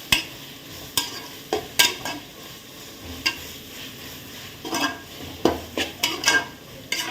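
Ginger garlic paste and onion sizzle in hot oil over a low flame for chicken biryani, with repeated scraping strokes of a spoon against the pan punctuating the steady frying hiss.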